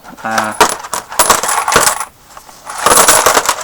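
Small coins rattling and clinking inside a Lady Luck dice table game, a miniature craps table, in several shaken bursts of metallic jingling, close and loud, with a brief pause in the middle.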